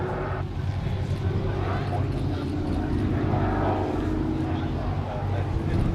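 Propeller aerobatic aircraft at the Cosford Airshow 2019 drone steadily in a continuous, loud engine roar, with a commentator speaking over the sound throughout.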